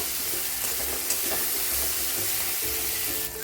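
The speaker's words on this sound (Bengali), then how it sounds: "এখন 1 চামচ আদা রসুনের পেস্ট আমি দিয়ে দিলাম, দিয়ে ভালো করে এটা কাঁচা গন্ধটা যাওয়া পর্যন্ত ভালোভাবে কষিয়ে নেব" Ginger garlic paste fries with onions in a pan, giving a steady, fairly loud sizzle with occasional stirring scrapes throughout.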